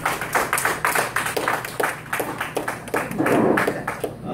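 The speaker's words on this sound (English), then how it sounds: "Hearty round of applause" A live tavern audience at a comedy show applauds, with a steady run of dense, close hand claps lasting several seconds.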